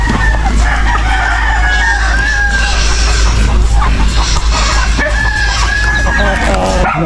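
Chickens cluck busily at close range while a rooster crows, with a steady low hum underneath and a person talking over the flock.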